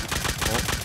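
A nail gun firing in Rust during a close-range fight. It gives a quick, steady string of rapid mechanical shots at close range throughout the short moment.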